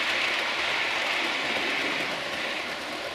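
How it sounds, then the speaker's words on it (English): Two model railway trains run on a track in a steady, continuous whirring rumble with a broad hiss, close and even throughout, with no talking. "I also have two trains running around here now, and as you can see they're both taking that bend with no problem at all now."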